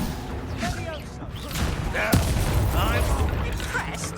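Bombarda and other blasting spells firing in a Hogwarts Legacy duel, a series of sharp booming blasts and crackling magical whooshes over game music, with a character's voice calling out.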